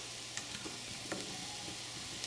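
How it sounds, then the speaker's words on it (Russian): Mini bella mushrooms, small brown ones, fry in oil in a pan with a steady, even sizzle throughout, broken by a few faint clicks and utensil taps. "обжаривать на масле."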